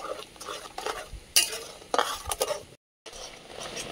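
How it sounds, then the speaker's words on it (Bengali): A spoon stirs an oil-free lemon pickle as it thickens and dries in a pan, producing loud, close bursts of scraping against the metal with a faint sizzle and a short silent break. "দেখুন বন্ধুরা নাড়তে নাড়তে কিন্তু শুকনো শুকনো হয়ে আসছে"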